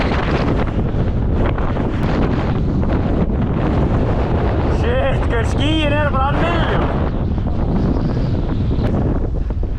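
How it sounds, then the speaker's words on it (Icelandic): Strong wind gusts batter the microphone on a downhill mountain-bike course in Akureyri, a constant loud roar throughout, with someone talking over it partway through. "Vindur að kom kviða."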